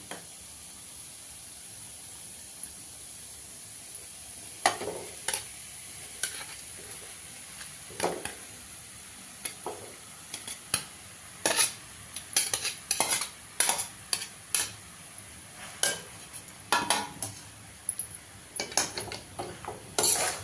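Masala pasta gently stirred in a pan, with soft spoon scrapes and taps in irregular bursts over a faint sizzle, growing busier toward the end.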